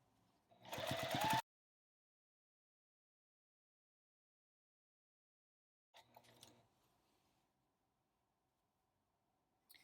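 A sewing machine stitches binding onto a quilt in a quick, close burst of rapid needle strokes, followed after a long silence by a second, fainter short run of stitching.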